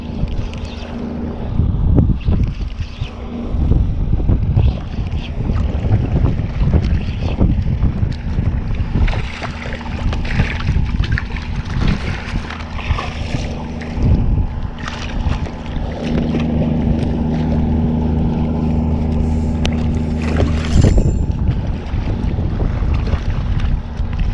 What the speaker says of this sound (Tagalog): Bilis kasi may bangka.